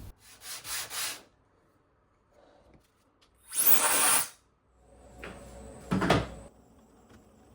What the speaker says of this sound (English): These will need to be sanded back to give a flat surface for the next step.